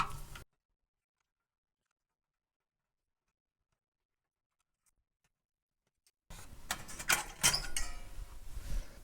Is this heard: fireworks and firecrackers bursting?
no